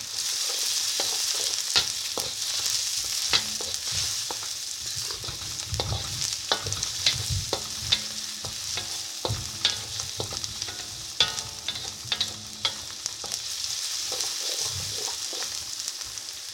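Ginger and garlic sizzle in hot oil while being stirred for Hakka noodles, a steady close frying hiss broken by repeated sharp scrapes and clinks of the utensil against the pan, with no one talking.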